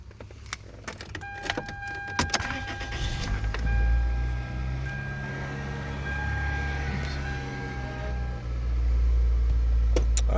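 A 2001 Toyota Corolla CE with a 1.8L engine turns over and settles into a steady idle after a brief burst of key and starter clatter, heard up close and continuing throughout.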